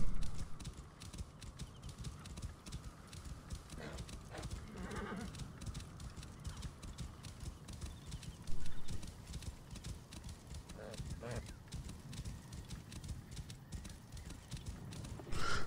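Steady clip-clop of horse hooves at a running pace in the video game Assassin's Creed Origins, with an occasional whinny, continuing under talking.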